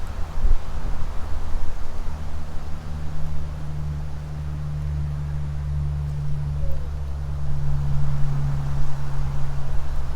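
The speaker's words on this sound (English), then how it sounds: "talk about windy." Steady wind rumbling and buffeting outdoors, a low roar with gusty swells throughout and no voices.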